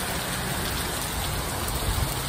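Steady, dense rain falling and pattering on surfaces outdoors, a loud, unbroken hiss throughout with no talking.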